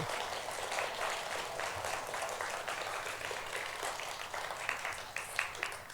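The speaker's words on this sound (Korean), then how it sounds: "박수합니다." A church congregation claps during a Korean worship service, a moderately faint, continuous patter of many hands with a few sharper claps standing out toward the end.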